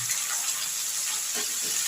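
Mixed vegetables, including cauliflower and stalks, fry in a pan for a Bengali vegetable curry. They give a continuous, even hiss of sizzling oil at moderate volume with no voices.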